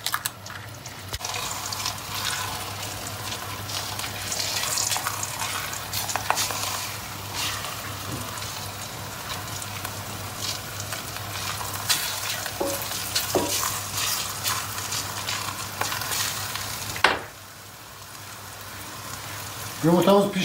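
An egg cooks in an oiled pan, giving a steady close sizzle with scattered scraping and clicks, a brief sharp clack near the end followed by a quieter patch and renewed noise.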